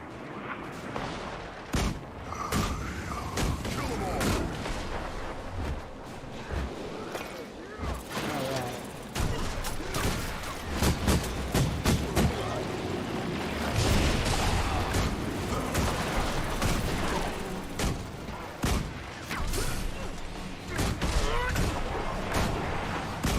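Turret gunfire in the video game Guild Wars 2, dense repeated booming shots and bursts running steadily throughout amid loud battle noise.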